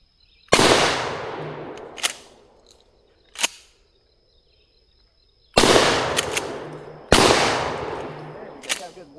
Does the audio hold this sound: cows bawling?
no